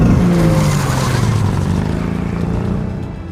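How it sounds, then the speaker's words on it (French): A cartoon car drives off with a loud engine roar and a tyre squeal, starting close and slowly fading as it pulls away, no talking. "Oh, je sais, j'y vais en voiture."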